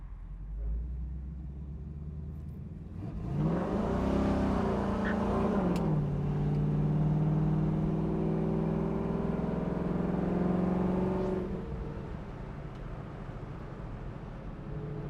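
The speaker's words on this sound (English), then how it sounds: "If I get a green light here, we'll see how this car runs." A 1968 Chevrolet Camaro Z28-style engine revs up and accelerates hard, its pitch climbing through gears over steady road rumble, then settles back down.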